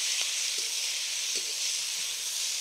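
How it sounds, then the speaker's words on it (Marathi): Moringa leaves roasting in oil in a pan for chutney, a steady, even sizzling hiss that stays constant throughout with no talking. "आणि जो धुवून वाळून घेतलेला आहे तो पाला टाकून घेऊ। तो पण चांगला कडक कुरकुरीत होईपर्यंत भाजून घ्यायचा आहे।"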